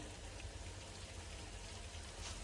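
Faint, steady hiss of rain falling, a soft continuous patter with no voices.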